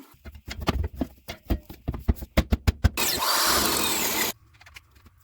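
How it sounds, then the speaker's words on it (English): A power drill whirs in a steady burst of about a second and a half, drilling holes in a vehicle floor for a fuel pump cover, preceded by a series of sharp rhythmic knocks and clatter up close. "the first thing you gotta do is actually drill the holes in the floor there"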